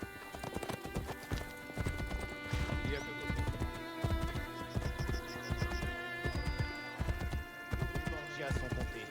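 A horse clip-clops at a gallop in Assassin's Creed Brotherhood, rhythmic hoofbeats close and steady over game ambience with chirping insects, and a voice speaks over it.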